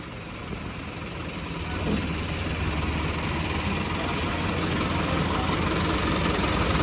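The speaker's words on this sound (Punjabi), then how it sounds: "ਇਹ ਟਰਬੋ ਟਰੈਕਟਰ" A steady, low turbo tractor diesel engine idles continuously, a constant rumbling drone with no other sounds standing out.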